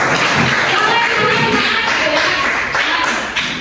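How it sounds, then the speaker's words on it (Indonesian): Students in a classroom clap for a classmate named Muhammad, a brief, dense burst of close hand claps that tapers off near the end, with some voices mixed in. "Oke, tepuk tangan buat Muhammad."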